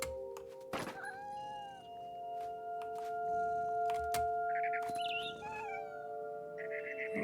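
Cat meows sound in the video game What Remains of Edith Finch as the character jumps, several short tonal mews scattered across a steady humming ambient soundtrack, moderately close with no talking.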